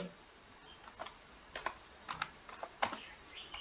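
Quiet, close typing on a computer keyboard in irregular short bursts of key clicks over faint room hiss.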